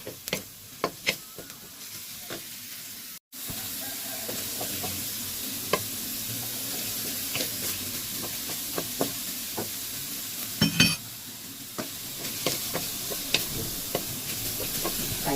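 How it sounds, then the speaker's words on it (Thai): Minced pork stir-frying in a pan for a glass noodle stir-fry, a steady sizzle with repeated sharp scrapes and clacks of the spatula against the pan, close and continuous with no talking. "ก็ผัดหมูเราให้สุกก่อนค่ะ ดีๆออกไป ให้หมูกระจายออกค่ะ"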